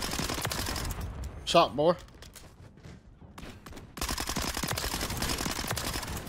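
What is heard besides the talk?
gunfire in video game Call of Duty MW3, MINIBAK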